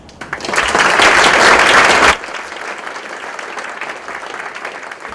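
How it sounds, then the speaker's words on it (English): Loud applause from a crowd at a school board meeting for about two seconds, then dropping to softer, continued clapping. "let's give a round of applause"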